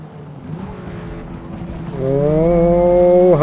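A race car engine in Forza Motorsport, with a Ford GT and a Mercedes 190E 2.5-16 Evolution II on track, runs at full throttle. A low drone climbs into a loud, rising, whining rev that holds near and strong, then shifts at the very end.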